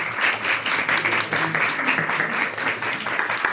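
An audience at a university conversation event gives sustained, dense applause that holds steady for several seconds.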